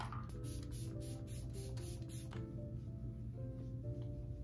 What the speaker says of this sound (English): I'm just gonna add a spray.